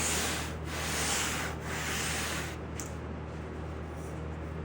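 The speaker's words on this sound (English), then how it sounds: "Now I'm gonna come in with the long sander." A long sander works over filler on the lower door skin of a 1963 Ford Falcon, steady abrasive rubbing strokes close by with a few rhythmic pauses, alone and fairly quiet.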